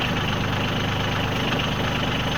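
Branson 2500 tractor with a BH100 backhoe attached, its engine idling steadily nearby with a low, even diesel rumble and no talking.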